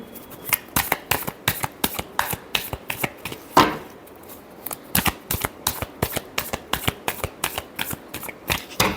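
A deck of cards is shuffled by hand in quick bursts of crisp riffling and snapping, close and clear, with a brief louder flutter partway through and no talking.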